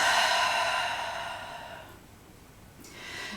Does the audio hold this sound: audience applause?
no